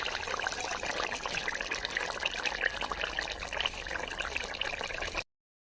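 Water pours steadily into a cooking pot over vegetables such as potato, Malabar spinach and eggplant, a continuous close splashing trickle lasting about five seconds before cutting off.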